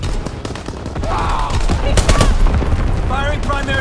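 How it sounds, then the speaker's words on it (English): Anti-aircraft battery firing in Call of Duty: WWII during a team deathmatch on the Shipment 1944 map, loud rapid bursts of gunfire and booms close by, mixed with other game noise and brief radio-style voice chatter. "Anti-aircraft bursts commenced."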